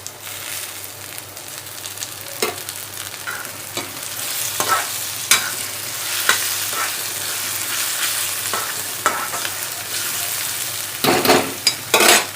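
Tomatoes fry in a pan while a spoon stirs them, a continuous sizzle broken by repeated sharp scrapes and clinks of utensil against metal, close up, with no talk.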